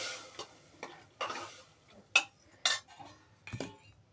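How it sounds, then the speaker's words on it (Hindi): A spoon stirs soaked chana and black urad dal in a cooking pot, making irregular scraping strokes and sharp metallic clinks against the pot's sides, with no talking. "सारी दाल डाल के हम एक बार इसे फिर अच्छे से मिक्स करेंगे।"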